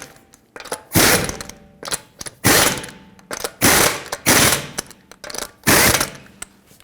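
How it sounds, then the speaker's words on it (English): A ratchet wrench tightens the front wheel lug nuts on a 2011-2014 Hyundai Sonata during a brake job, producing loud, close clicking bursts repeated six times with brief gaps between strokes. "Put back all 5 of your lug nuts, snug them up, and torque them to 80 foot-pounds."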